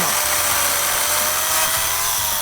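An electric chainsaw runs steadily with a loud, continuous motor whine and buzz, close by, without pauses.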